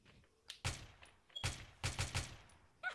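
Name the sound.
gunfire in a video game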